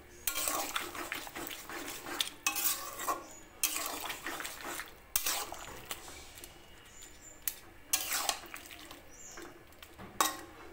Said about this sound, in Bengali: ভালো করে মিশিয়ে নিচ্ছি মাছের সঙ্গে।